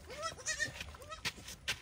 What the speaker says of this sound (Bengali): ছাগলগুলো সব নাইট শেল্টার থেকে ডে শেল্টারে চলে এসছে